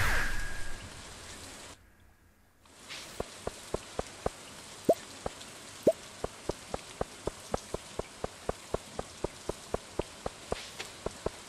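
Steady rain patters in Stardew Valley, a dense even hiss with a regular series of sharp drip ticks ringing out one after another; a brief dropout near the start, no voices.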